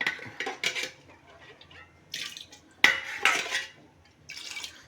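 Washed lentils tipped into a metal pressure cooker with clinks and a wet rattle, arriving in short bursts separated by quiet gaps.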